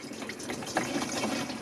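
A water-methanol mix is poured by hand into the injection tank of a budget Mustang, giving a steady, close liquid trickle and splash that runs unbroken for under two seconds.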